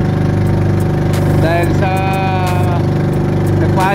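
A fishing boat engine runs loud and steady with a close mechanical drone, while a person speaks briefly over it and tonal squeals rise and fall in the middle.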